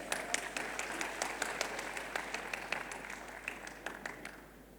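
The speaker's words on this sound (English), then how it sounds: "Give a big hand, please. Round of applause." Applause from an audience at an economic policy conference, a dense steady patter of many hands clapping at moderate volume from a distance, alone without speech.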